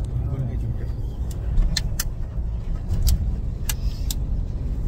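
An Isuzu vehicle driving on the road in rainy weather, with a steady low engine and road rumble throughout, occasional brief clicks and rattles, and a person talking over it.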